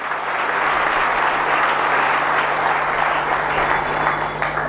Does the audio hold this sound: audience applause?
yes